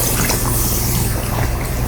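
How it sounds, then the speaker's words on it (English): Water pours steadily and loudly into a pot of browning bacon and garden carrots, a continuous close splashing rush with no voices. "All right, let's add some water."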